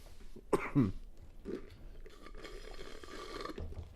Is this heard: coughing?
yes